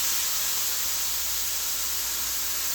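Pork tenderloin sears in a hot pan with a steady, bright sizzling hiss that holds constant and fairly loud throughout, no voices over it.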